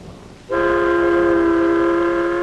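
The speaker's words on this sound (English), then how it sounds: "Ride the elevated train all the way from the Battery far uptown." An elevated train in New York: after a moment of low background noise, a loud, steady horn or whistle tone starts suddenly and holds, with no talking.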